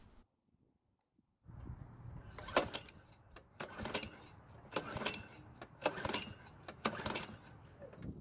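A lawn mower with gasoline in the tank and something other than motor oil in its engine is cranked repeatedly without catching: a series of rhythmic rasping pulls roughly a second apart after a short silence, heard fairly faintly.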